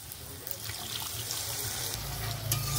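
Water poured into frying chicken masala in a pan for a village-style country chicken curry, giving a continuous close splashing, bubbling rush that swells slightly toward the end.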